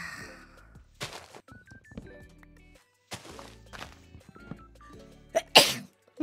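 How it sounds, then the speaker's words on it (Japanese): A single sharp sneeze bursts out loud near the end, following a quieter stretch of soft tonal background sounds and faint earlier bursts. "またくしゃみした。"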